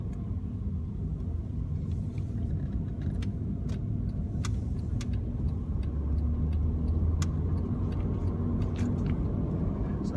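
Inside a car during a mock driving test, a steady low road rumble and engine drone continue throughout, with scattered light ticks and small rattles.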